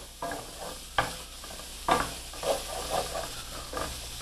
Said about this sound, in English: So now we're going to add the onions. We just want to cook those down just a little bit.